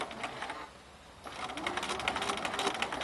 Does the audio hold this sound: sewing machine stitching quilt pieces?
yes